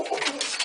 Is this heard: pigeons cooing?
yes